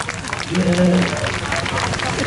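An outdoor crowd at a hot-air balloon festival concert in Taitung sends off a singer with applause, a dense wash of clapping and cheering heard under a voice on the stage microphone.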